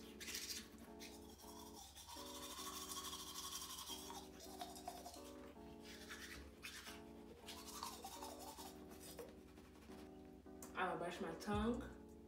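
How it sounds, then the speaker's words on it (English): Someone brushes their teeth with a toothbrush during a night-time routine, the scrubbing rising up close near the end over steady background music, with a voice talking throughout. "I'm going to wet my toothbrush. Put it on the toothbrush like this. Wet the toothbrush again. And then I'm going to scrub my teeth."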